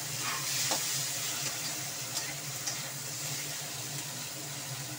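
Bitter gourd pieces frying in a pan for a bitter gourd curry, a steady broadband sizzle throughout with a few soft scrapes and clinks as the pieces are stirred, close and fairly loud with no talking.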